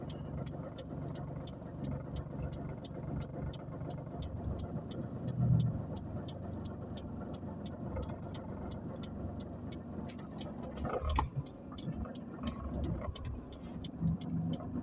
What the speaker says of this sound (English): so we are driving to the pickup point to pick our passenger.